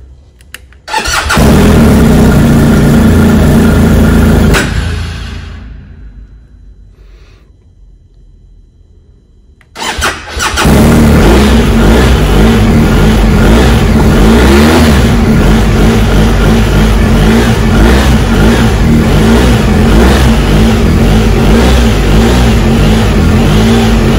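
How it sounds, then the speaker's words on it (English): A motorcycle engine cranks and catches loud and close, idles roughly, then cuts out into near silence before restarting with a burst and settling into a sustained, throaty running roar. "And let's hope the bike starts."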